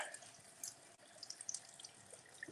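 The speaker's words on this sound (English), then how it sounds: "And then the water fountain," A decorative indoor water fountain runs with a faint, steady trickle and light splashing, heard alone and from a short distance.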